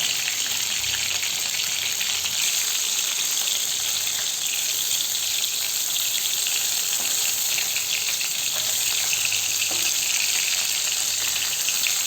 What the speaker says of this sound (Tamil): எண்ணெய் கம்மியாக இருந்தாலும் நம்ம திருப்பி அந்த எண்ணெயில் போட்டு வதக்கணும்.